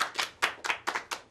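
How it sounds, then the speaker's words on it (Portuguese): Small audience clapping for a woman at a community culture program: a few short, close bursts of handclaps in an uneven rhythm, with no talking. "Palmas pra ela, Nil."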